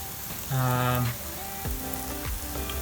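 Plantain slices frying in a pan give a steady close sizzle with a brief louder crackling surge, mixed with faint tonal sounds, and no talking.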